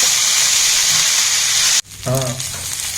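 Vegetables hiss loudly in a hot pan for tahari spiced rice, then the sizzle drops sharply as washed rice goes in and is stirred, leaving a softer, lower crackle.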